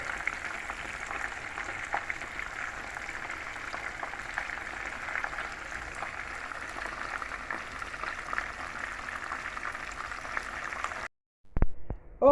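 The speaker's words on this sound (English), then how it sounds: "fish is finished frying" Steady, dense sizzling and crackling of fish frying in hot oil for Jamaican brown stew fish, continuous and close, cutting off abruptly near the end.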